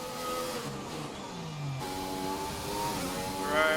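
McLaren F1 car engine in the racing game F1 2020, a steady high-pitched whine whose pitch dips and rises as the car shifts and accelerates, continuous and fairly loud throughout.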